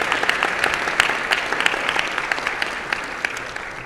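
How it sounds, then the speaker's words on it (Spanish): An audience at a blockchain law forum in Colombia breaks into dense, sustained applause, many hands clapping close and loud for about four seconds with no pause. "quieren que dan muchos aplausos a Juan Pablo de mi equipo que organiza todo eso."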